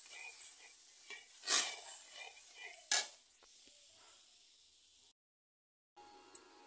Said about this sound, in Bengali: সব সময় নাড়তে হবে, তলা না ধরে